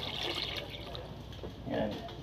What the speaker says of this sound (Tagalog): lagyan natin ng isang basong tubig